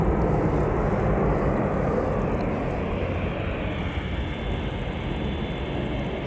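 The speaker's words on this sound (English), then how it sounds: "So there it is, KLM flight 601 to LAX, 78710. Next to take off" KLM airplane, a Boeing 787, taking off at Amsterdam Schiphol Airport, a loud continuous jet roar that holds steady and eases slightly toward the end, heard from fairly close with no talk.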